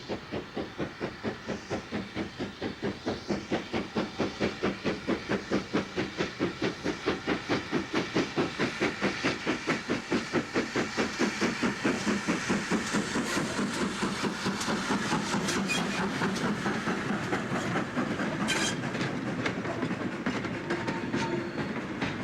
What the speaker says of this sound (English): the versatility of Great Western engines is seen on the Llangothran Railway with Foxcote Manor on a freight